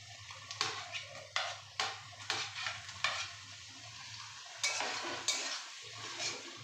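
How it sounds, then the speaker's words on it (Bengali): Spice masala with chopped tomato being stir-fried in a wok, a soft sizzle under a low hum broken by regular spatula scrapes and clinks against the pan, no voices. "টমেটোটা দিয়েও ভালো করে কষিয়ে নেব"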